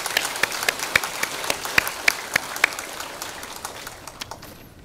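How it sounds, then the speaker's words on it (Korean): A church congregation at a special early-morning prayer service applauds, with sharp, fairly loud claps in quick succession that thin out and fade toward the end. "박수하겠습니다"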